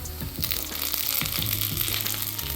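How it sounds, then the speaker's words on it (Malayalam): Shallots fry in coconut oil for a tempering, a dense crackling sizzle up close with rapid spattering pops and light stirring throughout. "ചെറിയുള്ളിയിലാണ് വറവിടുന്നത്"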